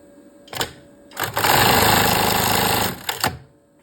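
Sewing machine stitching a strap onto a pair of panties, a short burst, then a steady run of close, loud stitching lasting over a second, bracketed by brief clicks of the machine starting and stopping.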